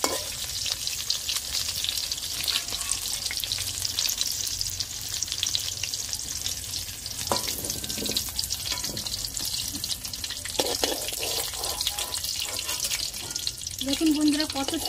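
Food frying in a pan over low heat, a continuous dense sizzle and crackle held close throughout, with a few faint clinks of utensils near the end.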